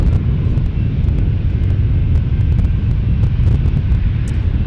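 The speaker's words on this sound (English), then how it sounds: "Japan Airlines turning base shortly." A Japan Airlines airliner approaches the airport in San Diego, turning onto base: a steady, heavy low rumble of distant jet engines mixed with wind buffeting the microphone, constant throughout with no voices.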